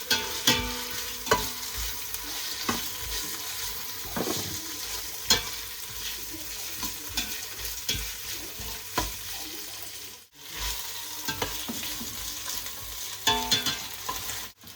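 Chopped onions fry in hot oil with ginger-garlic paste for home-made chicken biryani, a steady close sizzle broken by regular scraping stirs of a spoon against the pan, with no voices.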